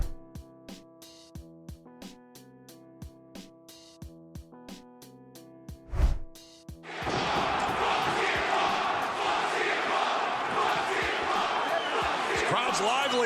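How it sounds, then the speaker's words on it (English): A lively, salty wrestling crowd at AEW Full Gear in New Jersey suddenly swells into a loud, sustained roar of cheers and shouts after a stretch of rhythmic entrance music and hits. "Crowd's lively tonight and salty"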